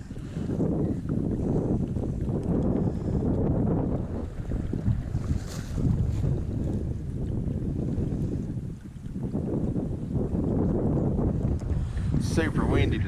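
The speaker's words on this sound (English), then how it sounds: "I don't know if y'all can hear me or not with the wind blowing." Strong wind blusters steadily across a lake bank on a cold early spring day, a loud rumbling roar buffeting the microphone throughout, with someone talking faintly beneath it.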